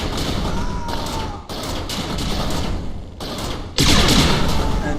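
Stealth tanks fire on snipers in the video game 8-Bit Invaders, a dense, continuous barrage of loud gunfire and blasts with brief dips and a sharp surge near the end.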